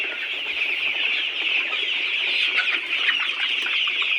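Layer hen pullets on a poultry farm, a dense, steady chorus of many birds clucking and chirping together, loud and continuous throughout.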